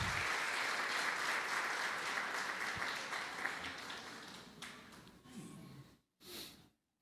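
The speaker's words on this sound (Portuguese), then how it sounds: "Vamos aplaudir ao Senhor, amém?" A church congregation at a family worship service claps steadily in a dense, even wash of applause that slowly thins and fades, leaving a brief quiet gap followed by a short final burst.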